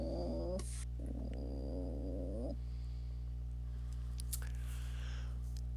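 A person imitates small cat noises, giving two bursts of wavering, meow-like vocal sounds over a steady electrical hum, followed by faint rustling.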